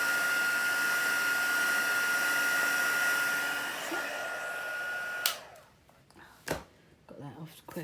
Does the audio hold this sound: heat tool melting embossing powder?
yes